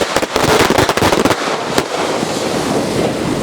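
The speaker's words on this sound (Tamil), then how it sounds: "ஸ்கை ஷாட்டுக்குள்ளே பிஜிலி வெடி." Bijli firecrackers bursting inside a sky shot: a rapid string of sharp, loud cracks and pops close by, clustering in the first second and a half, then tailing into a crackling hiss.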